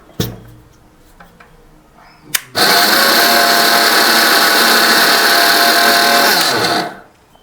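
Kitchen mixer grinder blending spice paste, starting abruptly after a few clicks and knocks, then running as a loud, steady high-pitched whirring motor for about four seconds before winding down.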